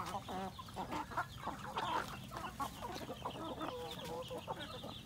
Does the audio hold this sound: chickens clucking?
yes